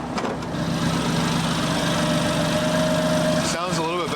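A BMW M4 engine idles with the hood open, a steady mid-pitched drone held for several seconds before a brief revving warble near the end, heard close with voices around it.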